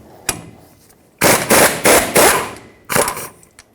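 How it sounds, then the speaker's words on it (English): A hammer drives a 21mm socket over a ball joint on the front suspension of a 2011-2016 Ford F-350, landing a loud single strike, then a rapid cluster of heavy metallic blows and a final pair, close and ringing. "I'm going to hammer a 21mm socket right over this and blast it off"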